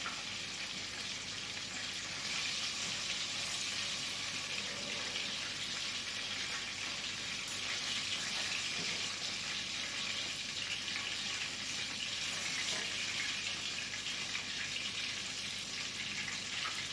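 Chicken frying in hot oil gives a steady, dense sizzle that runs evenly and unbroken throughout, with no talking.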